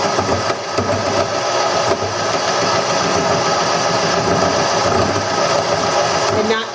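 A wood lathe spinning while a tool handle is turned, a loud continuous mechanical whir holding steady throughout, with brief louder scrapes at the end.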